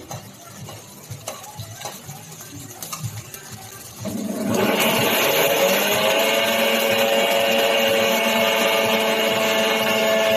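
A mixer grinder blends ginger and garlic into paste in a home kitchen, starting with a sudden loud motor whine after quiet clattering and holding a steady high drone to the end.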